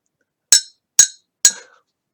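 A spoon clinks against a coffee cup three times in an even rhythm, each tap bright and ringing with a short decay, close and clear in otherwise near silence.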